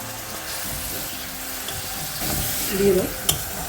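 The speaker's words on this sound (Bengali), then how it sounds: "এই জলটাকে একটু নাড়িয়ে চেড়ে নিচ্ছি" Chicken stock water is stirred in a frying pan with a close, continuous sizzle and swishing that grows louder near the end, then ends with a sharp clink.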